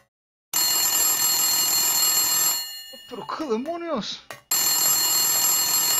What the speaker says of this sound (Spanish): Teléfono sin línea ni nada, de repente suena.